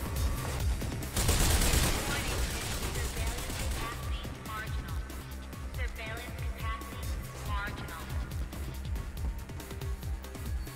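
Gunfire in Mirror's Edge, rapid repeated shots forming a steady fusillade under near-constant talking, with one louder burst early on.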